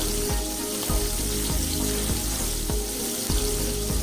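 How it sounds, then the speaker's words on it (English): Paua frying in a hot pan with herbs, lemon oil and garlic, a loud, close, continuous sizzle with rhythmic scraping strokes of stirring throughout. "We added the pawa to the pan of herbs, lemon oil, and garlic"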